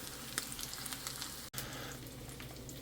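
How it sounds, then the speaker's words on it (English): Food sizzles steadily in a cast iron pan, a dense, even crackle heard close but quietly, with a brief dropout midway and no talk. "Ooh, I like the sizzling."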